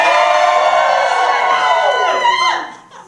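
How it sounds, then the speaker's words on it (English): A live audience cheers and whoops together in a loud, sustained burst that fades out over about three seconds. "you're gonna practice cheering"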